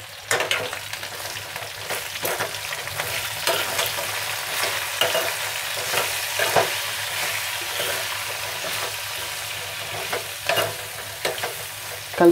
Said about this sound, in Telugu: చిటికెడు పసుపు, తగినంత సాల్ట్ వేసుకొని ఒకసారి కలుపుకుందామా